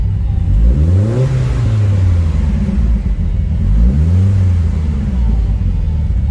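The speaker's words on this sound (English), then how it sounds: "Now, if I try to rev it," Tuned 600hp Mitsubishi Evo 9 with a top-mount 6466 turbo, running rich, revs twice in quick succession close up, each rise and fall loud over a rumbling idle.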